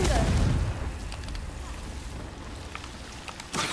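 Confringo blasting spell exploding in Hogwarts Legacy, a loud low boom at the start that decays into a crackling rumble, followed near the end by another sharp burst.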